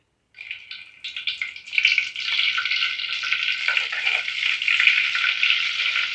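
Butter dropped into hot oil in a pan for channa masala bursts into a loud, close sizzle that swells within the first two seconds and holds as a continuous crackling hiss.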